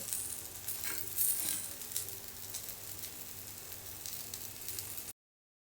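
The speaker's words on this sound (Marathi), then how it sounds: "तेल टाकून घेऊया आपण खालच्या साईडने पाच मिनटं भाजून घेऊया" Eggplant slices fry in oil in a pan with a steady, fine sizzle that holds at a moderate level. It runs alone, with no talk, and then stops abruptly.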